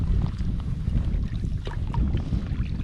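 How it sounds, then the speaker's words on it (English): Strong wind buffets the microphone on a kayak trip, a continuous low rumbling roar with faint splashes of water, close and steady for the whole clip. "Now the wind's in my face."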